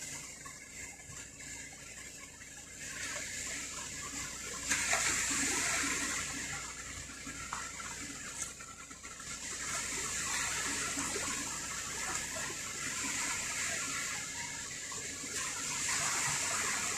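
Continuous rushing, splashing sea water close by, a steady wash of surf-like noise that swells and eases without pause, at Rabigh, Saudi Arabia.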